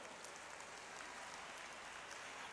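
A large crowd at a Madhya Pradesh event welcoming Amit Shah claps in a steady, even wash of applause that sounds faint and distant throughout.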